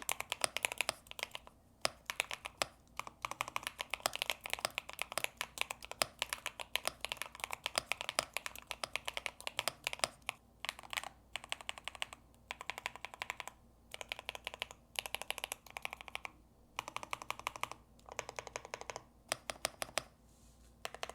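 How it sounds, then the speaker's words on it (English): Continuous typing on an Epomaker RT98 keyboard fitted with Creamy J linear switches: rapid, close keystrokes in uneven bursts with brief pauses, heard alone without talk. "Let's do a typing test."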